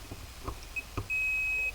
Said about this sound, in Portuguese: botou aqui um dentro e outro fora, bipou, já está descartado